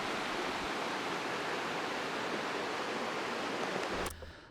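A waterfall at Rötle, Sweden, rushes with a constant, dense hiss of falling water that stays even throughout, then drops away abruptly just before the end.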